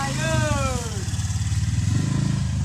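Zebra Espass car engine being started with the choke pulled, a low throbbing engine note that settles into a steady idle, loud and close, with a voice briefly heard over it.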